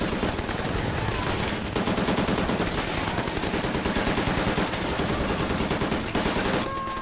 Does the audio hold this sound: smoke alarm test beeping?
no